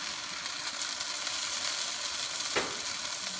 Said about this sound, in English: we'll cook our ground pork maybe for 5 to 7 minutes